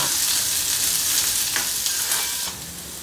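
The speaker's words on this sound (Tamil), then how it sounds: "இந்த வெங்காயம் வந்து பார்த்திங்கன்னா நல்லா வந்து ஒரு கோல்டன் ப்ரௌனுக்கு கொஞ்சம் முன்பதமாக வரைக்கும் அதை வதக்கலாம்" Onions sautéing in oil in a home kitchen pan, a steady close sizzle with occasional stirring scrapes, easing slightly quieter near the end, no voices.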